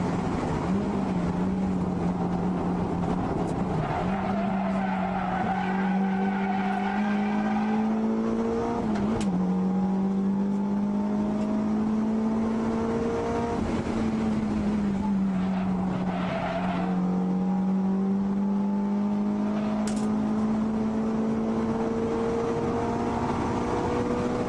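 A car brakes hard from high speed and drifts, its engine droning loudly and continuously while the tires squeal and the pitch rises and dips through the corners, with no voices.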